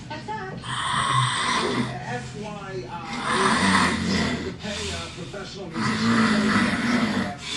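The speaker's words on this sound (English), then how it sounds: "I have sleep apnea. I snore loud." A man with sleep apnea snores loudly in long, rasping, rattling breaths that repeat in a slow rhythm, heard close up.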